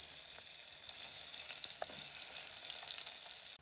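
Garlic and red pepper frying in olive oil in a pot, a fine steady crackling sizzle at moderate level with a few small pops, cutting off abruptly at the end.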